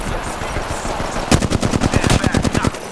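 Rapid automatic gunfire from an Apex Legends match, loud and close, with a burst of evenly spaced shots dominating the second half after busier mixed shooting earlier.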